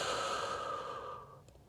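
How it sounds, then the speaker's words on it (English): Deep breathing in through the nose and out through the mouth during a Pilates floor stretch, a steady close breath sound that fades toward the end. "Breathing deeply in through the nose"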